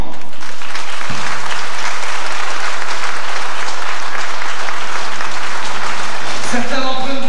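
A large audience at a stage show applauds steadily for several seconds, a dense wash of clapping that stays loud throughout, with a voice briefly audible near the end.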